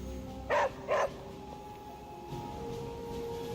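A dog gives two sharp barks in quick succession, fairly close and clear above a faint steady background hum, followed by quiet room tone.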